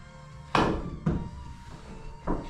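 A pool cue strikes the cue ball on a low-deflection shaft, giving three sharp clacks with short ringing decays, close and fairly loud, the first two about half a second apart and the third after a longer gap.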